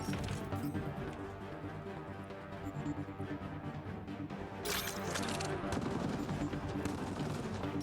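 Weapon fire in Mass Effect: Andromeda comes as dense, rapid bursts of shots and impacts layered over game music and effects, loud and nearly continuous, swelling harder toward the end.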